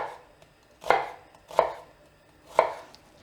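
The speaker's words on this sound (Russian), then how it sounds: "Очищаю лук и, как обычно, режу." A knife chops a small peeled onion on a cutting board, three sharp, distinct cuts spaced about a second apart, close and clear with no talking.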